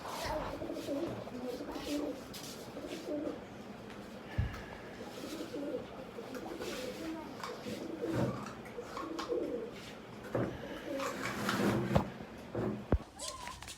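Pigeons cooing softly in a coop, with low, faint, repeated calls under a steady background hum and scattered clicks and knocks, with speech present in places.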